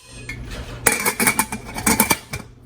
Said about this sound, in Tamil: இப்போ இதை ஒரு மூடி போட்டு மூடிடலாம்